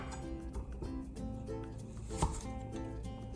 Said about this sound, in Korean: 껍질 벗긴 당근을 위아래 썰어주세요